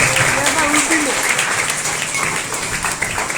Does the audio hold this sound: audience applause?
yes